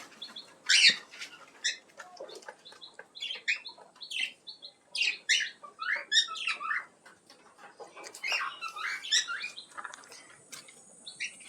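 Tame pineapple conures kept in a pet bird setup give bursts of sharp, high chirps and squeaks, close and irregular, with brief pauses and faint rustling between calls.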